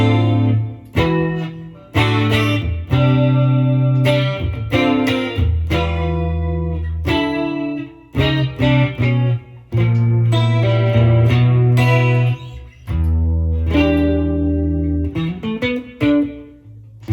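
Electric guitar played through a NUX Trident multi-effects unit on a clean preset with reverb: chords and single notes ring out in phrases with brief pauses, close and fairly loud, with no talking.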